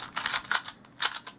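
Quick clicky plastic clacks in short bursts, like a puzzle cube being twisted rapidly, close and fairly quiet with brief pauses between turns.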